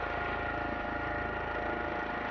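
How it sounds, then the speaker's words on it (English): A steady, high-pitched Fenestron tail rotor whine from an H135 helicopter in Microsoft Flight Simulator hums continuously under an engine drone, even and unbroken, with no voices. "that high-pitched noise you're hearing is the Finistrom tail rotor"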